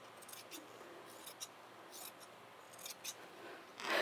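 Scissors snipping through organza fabric for an appliqué cushion, a series of quiet close cuts at irregular intervals, with faint talk in the background.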